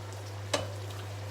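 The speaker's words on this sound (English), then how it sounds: "I'm just going to quickly stir my spinach." Spinach is stirred in a pan, with a single sharp utensil scrape and a light clink against a quiet, steady background hum.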